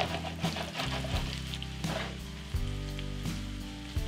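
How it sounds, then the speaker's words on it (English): Potatoes frying in a pan as fragrant hot oil is spooned over them, a steady close crackling sizzle with soft scraping and clinks as the pan is tilted; a faint hum runs underneath. "baste the potatoes with this very fragrant oil"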